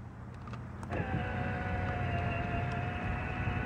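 Power-extending side mirrors on a 2004 GMC 3500 SLT Duramax dually truck whir steadily with a thin electric motor whine, starting about a second in and running continuously, close and clear against a low background hum.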